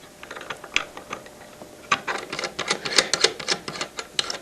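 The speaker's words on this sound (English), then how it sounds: "So in the router, I'm going to put the 5/8 inch outside diameter guide bushing" A guide bushing is fitted into a router, producing a series of small metallic clicks and ratcheting taps, sparse at first and then denser and louder, with no talk.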